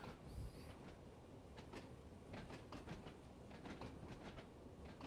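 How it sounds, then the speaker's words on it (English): Clanking, rattling train running on the Isle of Wight Island Line in Train Sim World 2, a steady rumble with repeated clunks and rail clicks throughout. "More clanking and rattling. More clunking."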